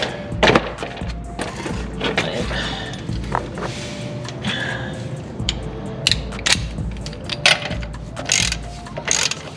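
A nut being tightened on an 80 Series Toyota Land Cruiser, with irregular ratcheting clicks and metallic taps from a wrench and extender, up close over a low background rumble.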